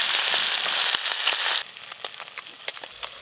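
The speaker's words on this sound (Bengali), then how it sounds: "এই মাছগুলো আমি হালকা করে ভেজে নিয়েছি, তুলে নেব।" Small fish fry in hot oil with a dense, loud sizzle that cuts off abruptly partway through, leaving scattered crackles and pops at a lower level, close and without talk.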